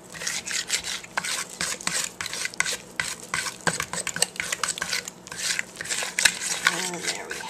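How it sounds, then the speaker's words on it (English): A fork scrapes and taps against a bowl while pancake batter for quinoa blueberry pancakes is stirred by hand, giving a busy, irregular rhythm of close scraping and clinking, with a voice speaking briefly. "I do it all with a fork,"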